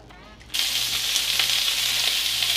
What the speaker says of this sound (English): my pan is hot, and I have oil in here, and I'm going to break our meat apart and cook that down